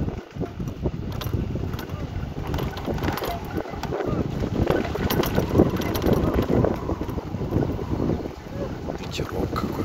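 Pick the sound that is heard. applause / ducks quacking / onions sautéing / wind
wind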